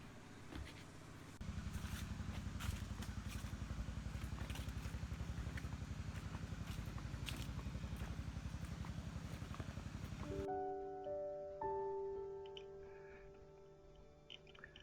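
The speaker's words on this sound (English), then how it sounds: "You can hear the engine noises, and I think that was some kind of pump for the mine." A mine pump's engine drones low and steady with rapid rhythmic chugging for about ten seconds, heard from inside a cave, then cuts away to quieter tonal hum and faint clicks.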